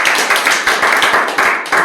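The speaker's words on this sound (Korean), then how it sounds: "박수 한번 쳐주세요." A small crowd at an exhibition opening claps in short, loud, close bursts, with dense hand claps that form a brief round of applause.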